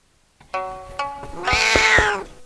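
A cat meows several times close up, short calls building into a longer, louder drawn-out yowl.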